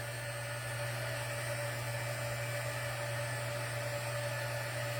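A heat embossing tool blows hot air for paper crafting, a steady, even whirring hum with a constant tone from start to end and no pauses.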